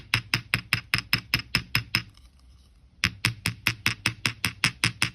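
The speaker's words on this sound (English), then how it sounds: "I'm just hammering the top curve of this wire" A metal hammer strikes jewellery wire resting on a block, delivering a quick, steady run of sharp close taps that pause for about a second and then resume at the same even rhythm.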